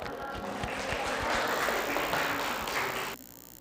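Classmates in a school classroom clap together after a group presentation, a dense, steady burst of many hands filling about three seconds before cutting off sharply.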